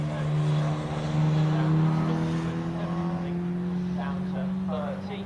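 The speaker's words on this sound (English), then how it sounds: "you can just hear a bit of track action actually from the cars ahead" MG race cars lapping Snetterton circuit, heard as a distant engine drone under a speaking voice, with a steady tone that slowly rises in pitch.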